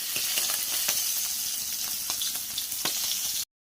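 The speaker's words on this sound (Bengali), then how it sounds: "উনুনটা তো ডিম ভাজা হচ্ছে" An egg fries on a clay stove with a steady, crackling sizzle and scattered pops up close, before the sound cuts off abruptly.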